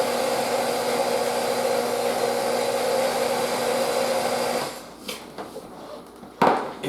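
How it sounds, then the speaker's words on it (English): A countertop blender whirs loud and steady for under five seconds while mixing gluten-free bread batter, then stops, followed by a few soft kitchen clunks. "let me just blend this first and then I'll explain"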